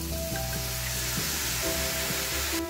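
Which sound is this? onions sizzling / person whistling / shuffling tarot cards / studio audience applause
onions sizzling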